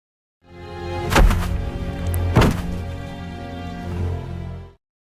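Two sharp gunshot blasts ring out in a film scene of a Japanese colonel firing at a kung fu master, each a loud booming crack over a low sustained rumble, spaced about a second apart.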